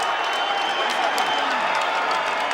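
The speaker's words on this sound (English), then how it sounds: "First time I've ever seen media people applauding at the end of a fight" Media members in the press seats applaud at the close of the first Corrales vs Castillo boxing fight, a steady wash of clapping and crowd noise with faint cheering, moderately distant and continuous throughout.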